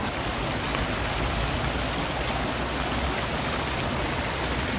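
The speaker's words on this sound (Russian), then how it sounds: "слава богу, еще льется вода" Water pours steadily in a cast iron park fountain, a dense, continuous splashing wash with no pauses, loud and close, with no voices over it.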